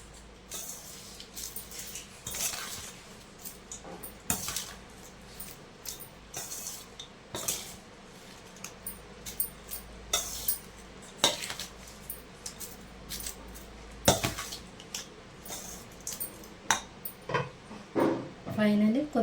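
A spoon stirs and mixes food in a pot for a Telugu home meal of rice, potato fry and dal, with irregular metallic clinks and scrapes against the pot, sparse at first and more frequent toward the end.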